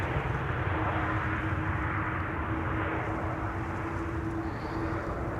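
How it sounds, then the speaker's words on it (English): Qatar Airways Boeing 777-300 arriving from Doha on approach to land at Amsterdam Schiphol, a steady broad engine roar with a low continuous drone holding at even loudness throughout, no voices. "Qatar 777 coming in from Doha"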